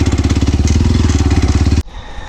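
A motorcycle with a ported 172FMM engine labors uphill, its loud, close, rapid thumping exhaust pulsing steadily, then cutting off abruptly to a quieter low idle-like rumble.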